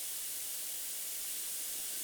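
A Gaggia Classic Pro espresso machine fitted with a PID controller lets out a steady, loud, close steam hiss from its wand. The hiss is continuous and unbroken, with no voices.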